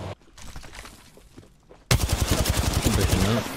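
Video game gunfire erupts suddenly after a quiet stretch of soft voices, a loud rapid burst of automatic shots that continues in a fast rattling rhythm to the end.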